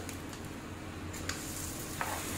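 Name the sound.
millet and pea tikki being flipped while pan-frying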